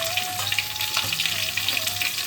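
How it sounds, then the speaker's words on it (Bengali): Drumsticks, potato, eggplant, green banana, papaya and radish fry in oil with panch phoron in a pan, giving a steady, close, dense sizzle that runs throughout with faint stirring and a soft tonal hum underneath. "এবার এই সবজিগুলোকেও আমরা খুব ভালোভাবে ভেজে নেব।"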